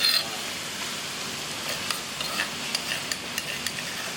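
Northern-style Thai chilli dip is stir-fried in a pan: a steady, fairly loud hiss with a run of light, rhythmic scraping clicks from the spatula, heard close and without voices.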